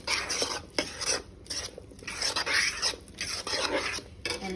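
Butter being stirred into chicken pot pie filling in a pot, with close, quiet scraping and clinking of a utensil against the pot in uneven strokes.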